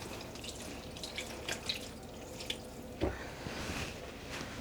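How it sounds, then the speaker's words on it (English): Water splashes and trickles as soaked yarn is wrung out over a sink while being dyed, with scattered drips and a sharper splash midway, no talking. "So I'm just going to be squeezing out some of the water."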